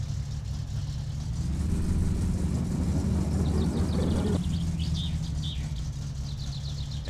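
A car in My Summer Car backs out, its engine droning at a low steady idle that swells briefly as it moves, with faint bird chirps in the background.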